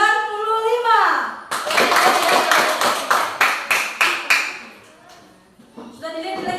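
A school class claps together in a burst of sharp, rhythmic claps, loud and close, with children's voices before and after.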